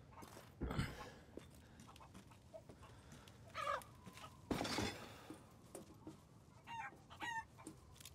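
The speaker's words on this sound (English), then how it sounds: "I think I can shoot chickens in this game." Chickens cluck and squawk in the video game Resident Evil Village, with scattered short calls and a couple of sharp bursts over a faint background.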